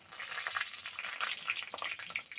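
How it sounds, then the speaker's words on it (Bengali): Dried red chillies, bay leaves, whole garam masala and cumin seeds sizzle in hot oil in a wok for a chicken kosha, with a steady crackling fry and scattered pops, fairly quiet and without talk. "ফোড়নে দিয়ে দিচ্ছি শুকনো লঙ্কা, তেজপাতা, গোটা গরম মশলা আর গোটা জিরে"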